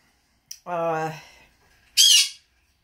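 A pet bird lets out a loud harmonic squawk lasting about half a second, followed after a pause by a short, sharp, high-pitched scream, both close and clear against silence.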